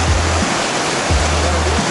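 A waterfall near Sochi roars as a loud, steady wash of rushing water close by, with brief low rumbles underneath.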